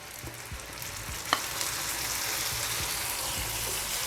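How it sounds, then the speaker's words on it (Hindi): Onion masala with tomato paste sizzling and frying in a pan for fish curry, a steady soft crackle with a few stirring clicks. "अब जो है ये अच्छी तरह से भुन रहा है। अब मैं इसमें डाल रही हूँ 3 टमाटर की पेस्ट।"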